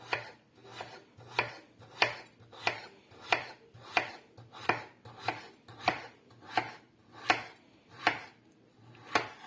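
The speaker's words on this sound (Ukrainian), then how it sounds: "нарізаємо її невеличкими трикутничками, так як на смажену картоплю" A knife chops potatoes into small triangles steadily on a cutting board, about a dozen crisp, evenly spaced strikes at close range with no talking.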